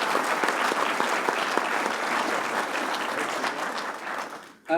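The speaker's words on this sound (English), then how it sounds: "So if you could give a round of applause to them," Steady audience applause at the opening of a workshop, broad continuous clapping from a sizable crowd that stays even for several seconds before stopping abruptly.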